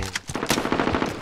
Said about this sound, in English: Do not get into a gunfight.